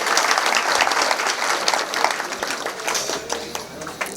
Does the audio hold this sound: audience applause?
yes